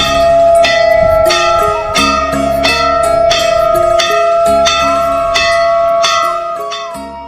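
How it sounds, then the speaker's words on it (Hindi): A large bell is struck loudly and repeatedly from a rooftop to summon people to a free meal at a charitable food trust; the clangs come at a steady rhythm, each ringing out with a long, resonant tone. "ट्रस्ट का एक कर्मचारी छत पर जाता है और जोर जोर से घंटा बजाता है।"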